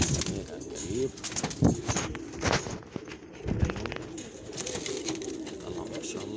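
A pair of Shami pigeons, male and female, coo nearby in repeated soft, throaty bursts with short gaps between them, over light background movement.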